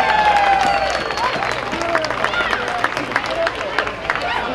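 Audience applause at a chili cook-off contest, a steady wash of clapping mixed with crowd chatter and a few voices, fairly close and continuous throughout.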